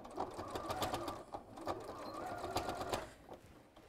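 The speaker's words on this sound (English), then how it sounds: "I'll just sew that one closed now. So again, reverse stitch over the top." A sewing machine reverse-stitching over a seam on a fabric rabbit softie, its needle chattering in quick, close bursts that stop and restart with short pauses.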